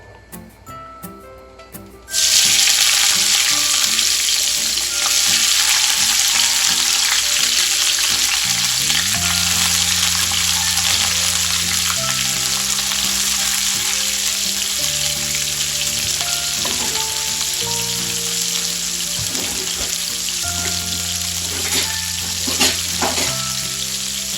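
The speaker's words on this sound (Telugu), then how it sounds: "ఈ వేడైన ఆయిల్లోకి మనం కడిగి పెట్టుకున్న కాకరకాయ ముక్కలను వేసుకోవాలి" Washed bitter gourd pieces drop into hot oil and set off a sudden loud, steady sizzle that roars close by for the rest of the time, with faint clicks and stirring beneath.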